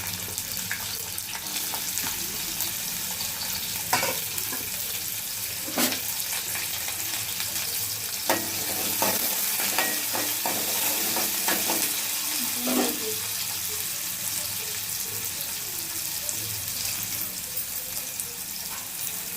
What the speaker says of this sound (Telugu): ఒక పావు చెంచా ఆవాలు వేసాక ఉల్లిపాయలు వేస్తున్నాను.